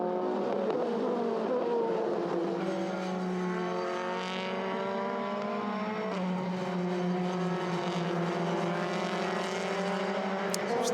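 Euroformula Open single-seater race cars at Silverstone heading into Copse Corner, high-pitched engines wailing and shifting as they pass, a steady loud roar of several cars throughout.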